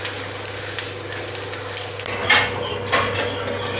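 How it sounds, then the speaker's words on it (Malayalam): Ghee rice being mixed in a frying pan, with soft sizzling throughout and a couple of sharper scrapes and clinks of a spoon against the pan, close and moderately loud, no voices. "ഇനി നമുക്ക് ബാക്കി ചോറുകൂടെ ആഡ് ചെയ്തിട്ട് നന്നായിട്ടിത് മിക്സ് ചെയ്തെടുക്കാം"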